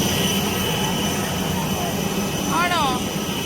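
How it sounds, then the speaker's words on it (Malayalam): A jet airplane that has just landed fills the cabin with a loud, steady engine roar, and a brief faint voice is heard near the end. "ഫ്ലൈറ്റ് ലാൻഡ് ചെയ്തു"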